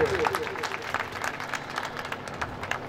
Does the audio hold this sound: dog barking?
no